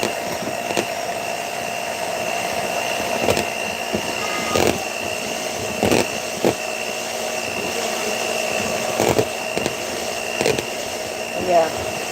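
An electric hand mixer whips cream into butter, a steady motor whir running throughout with brief louder surges and clanks, with no talking.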